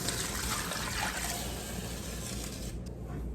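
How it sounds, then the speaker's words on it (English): Four cups of water pour steadily into a soup pot for hamburger soup, a continuous close splashing trickle that runs for a few seconds and then tapers off. "going to start with 4 cups of water"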